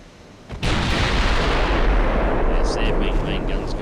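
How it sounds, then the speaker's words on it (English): Warship main guns thunder in the naval video game Ultimate Admiral: Dreadnoughts, a sudden heavy blast that swells into a sustained, loud rumbling roar of gunfire lasting several seconds. "There's their main guns going off. This is loud."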